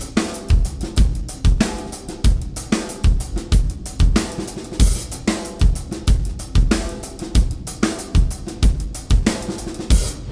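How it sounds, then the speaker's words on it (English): A drum groove played on a regular acoustic drum set, with a punchy kick, cracking snare and busy hi-hats. It repeats in a steady, driving rhythm, loud and close, with no voices. "If we play this groove back on my regular drum set, it sounds like this."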